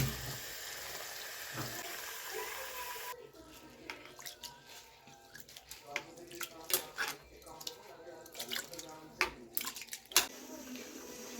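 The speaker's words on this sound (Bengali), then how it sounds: "চাল নিয়ে নিলাম, ধুয়ে বসিয়ে দিই।" Rice is washed with water in a home kitchen: a steady rush of running water gives way to irregular splashing, swishing and light clinks of grains and vessel.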